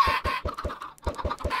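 Chickens in the Minecraft video game cluck in quick repeated bursts, a busy run of short clucks with a brief gap midway, close and fairly loud with no talking.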